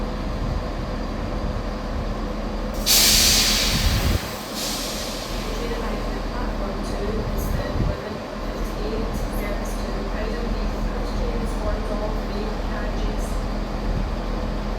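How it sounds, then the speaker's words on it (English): A Scotrail train pulls into Edinburgh Gateway station with a low rumble, a loud hiss of air release partway through, and clattering rail noise as it comes in. "Arriving in now is the 1158 Scotrail service from Edinburgh Waverley to Cowdenbeath."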